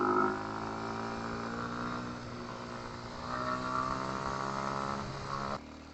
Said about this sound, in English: And the engine, it makes a nice noise.